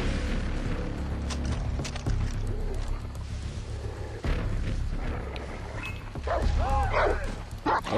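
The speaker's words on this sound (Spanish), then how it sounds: "Ok, estúpido perro." A dog barks in the Far Cry 3 video game, several sharp barks near the end over a constant bed of booming gunfire and explosions.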